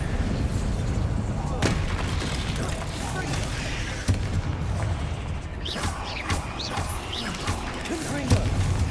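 Bombarda explosion spell cast in Hogwarts Legacy in a catacomb, heavy booming blasts and crashes with sharp impacts scattered throughout, under a busy noisy battle, with voices shouting spells.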